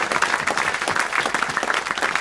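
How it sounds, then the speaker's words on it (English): Wedding guests applaud the bridesmaids during a best man's speech at a reception, a dense, steady round of clapping from a nearby crowd lasting the whole moment with no talk over it. "we should have a round of applause for the bridesmaids"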